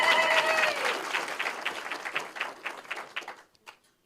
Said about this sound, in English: Can we add once more the applause? Can we make noise for the governor?